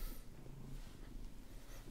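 A domestic cat purring steadily and softly up close, a continuous low rumble running through the whole short stretch with no talking.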